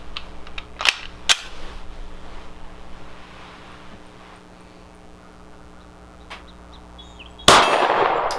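Walther PDP Compact pistol fired outdoors at a steel silhouette target, two sharp loud shots with metallic pings early, a faint later tap, then a sudden loud burst of wind or rustle at the end.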